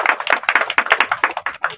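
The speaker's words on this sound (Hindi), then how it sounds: "जोर से ताली बजाओ" A church congregation claps loudly in quick, steady rhythm, many hands striking together in a brisk, even beat with no talk over it.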